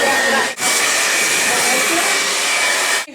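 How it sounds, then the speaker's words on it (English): Hair dryer blowing a woman's freshly treated hair, a loud steady whooshing hum with a faint whine, briefly cut off twice as the airflow is interrupted. "Her hair is done. We blow dry it."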